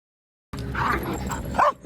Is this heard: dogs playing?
yes